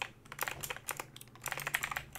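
Rapid, continuous typing on a computer keyboard, close and fairly loud, with dense clicking keystrokes clustered in quick runs and no voice over them.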